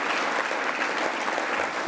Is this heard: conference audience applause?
yes